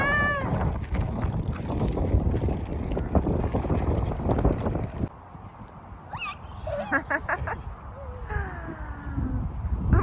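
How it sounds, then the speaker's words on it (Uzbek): Strong wind buffets a microphone outdoors, a loud broadband roar for the first half that eases into a lighter gusting rush, with children's voices and chatter heard faintly over it. "Voy, shamollar."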